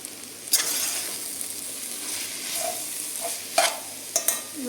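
Masala frying in a pan with chicken masala for paneer biryani, a low continuous sizzle punctuated by a few sharp spatula scrapes and clinks, close and moderately quiet.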